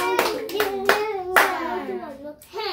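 Children clap in a few sharp, separate bursts during a Bible lesson on Gideon. A voice speaks or sings continuously over the claps.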